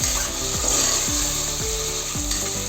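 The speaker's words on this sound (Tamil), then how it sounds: "தக்காளி சேர்த்து நல்லா வதக்கிக்கலாம்." Tomatoes sautéing in a pan for a cowpea rice dish, with a steady bright sizzle and repeated scraping strokes of a spoon roughly every half second, close and without talking.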